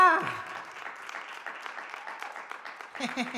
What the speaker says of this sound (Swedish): Klappa!